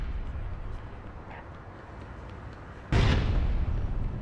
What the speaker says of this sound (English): That rocket.